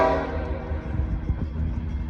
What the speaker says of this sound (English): Got another train coming, folks. Eastbound this time.